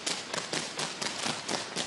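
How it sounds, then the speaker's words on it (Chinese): Fireworks go off during Valencia's Fallas festival in Spain in a rapid, even string of sharp crackling bursts, roughly four per second, at moderate level with a constant noisy wash between them. "五花十色的烟火，"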